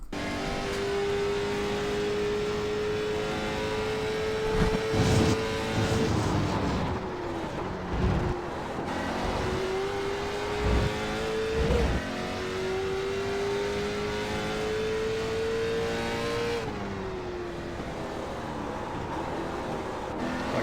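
Onboard lap of a race car in a racing video game, engine note climbing steadily and dropping at each gear change, with downshifts and upshifts through second, third and fourth gears, loud and continuous with no talking.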